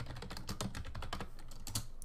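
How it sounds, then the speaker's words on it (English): Rapid, light clicking of keys being typed on a laptop keyboard close by, quick irregular taps in a continuous burst. "you might hear me typing when I type because my laptop, my keyboard is kind of close to the microphone"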